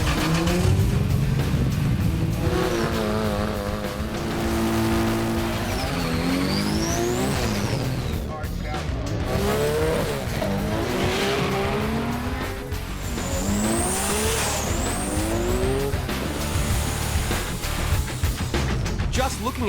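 Nissan GTR street car in the Japanese JDM scene, engine rising and falling through revs with tyre squeal and passing-car sweeps, loud and continuous, with some voices underneath.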